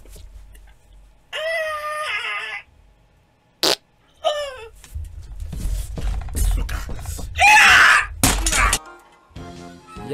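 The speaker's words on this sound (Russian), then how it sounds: "Я сейчас пукну." Several short, raspy bursts that fit a fart, mixed with squeaky, whiny vocal noises and louder clattering sounds in a comic exchange; voices are heard around them.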